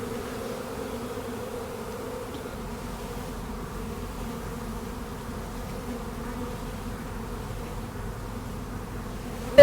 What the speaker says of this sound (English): This is a secondary swarm